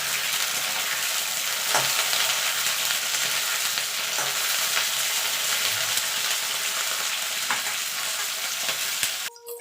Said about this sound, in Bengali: এবার আলু আর ফুলকপিটা একটু ভাজা ভাজা করে নেব।